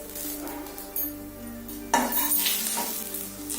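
Dried red chillies and bay leaves fry in hot oil for a Bengali-style vegetarian dal, giving a steady close sizzle with a few sharper bursts and light clinks of a spoon or pan partway through.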